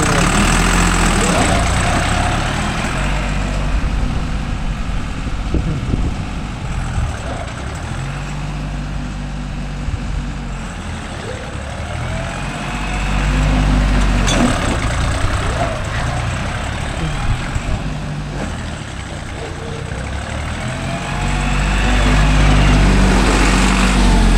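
A Deutz-Fahr Agrolux 50 hp tractor with a 15+15 gearbox runs its diesel engine, a loud, continuous low rumble with slow swells in revs, heard up close for the whole stretch.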